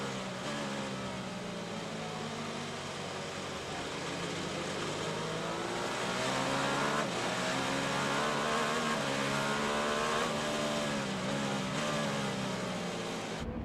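A 2025 IMSA WeatherTech SportsCar prototype racing through the Daytona infield at the Rolex 24, its engine note rising and falling through shifts and corners, steady and fairly loud with no talk over it.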